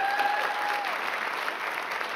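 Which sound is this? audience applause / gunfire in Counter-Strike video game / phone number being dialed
audience applause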